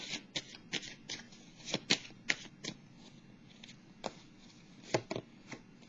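Tarot cards are shuffled and drawn close by: a run of crisp, papery riffles and snaps in an irregular rhythm, with no voices.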